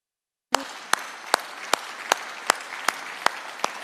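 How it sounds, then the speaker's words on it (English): Applause at a national AI lab signing ceremony in Jamaica starts abruptly and stays at a steady level, with sharp, evenly spaced claps punching through roughly every half second. "Give it a big round of Shakespeare applause."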